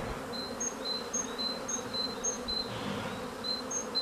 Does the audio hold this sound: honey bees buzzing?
yes